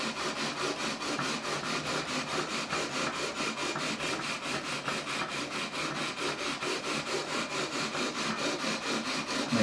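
A 240-grit abrasive being worked over the frets of a Korean-made Squier Stratocaster neck, giving close, steady back-and-forth rasping strokes in an even rhythm of about four per second, heard alone.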